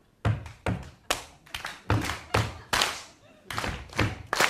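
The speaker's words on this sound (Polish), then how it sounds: "Uwaga, wszyscy będą ładnie klaskać" Cabaret audience at a comedy show clapping on cue in a steady rhythm, each loud collective clap ringing out in a regular beat, close and repeated about a dozen times.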